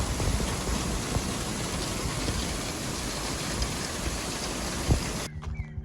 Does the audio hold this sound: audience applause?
no